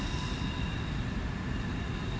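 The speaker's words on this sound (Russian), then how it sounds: "Вот поезд как раз едет." Train passing near St-Pierre hospital in Brussels, a continuous low, heavy rumble at moderate distance, steady and unbroken with no horn or voices.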